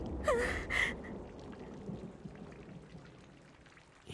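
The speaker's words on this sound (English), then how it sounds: "Can't even see the other side of it with all this rain." Heavy rain pours steadily in the Corpse Party video game, a dense close hiss of drops that carries on without a break, with a couple of brief tonal game effects near the start.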